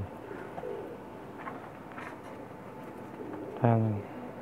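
Pakistani pigeons on a rooftop loft coo in a short rolling burst, close and fairly loud, with faint softer calls earlier amid low background noise and people talking nearby.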